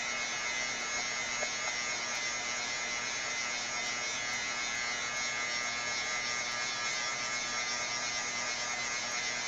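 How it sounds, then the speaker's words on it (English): A heat gun drying ink on a scrapbook layout gives off a steady, even electric whir with a fan hiss, constant and fairly close, with no talking. "with a heat gun because this ink will smear until it's dry"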